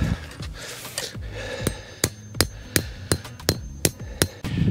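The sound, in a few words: hammering solar pathway light stake into ground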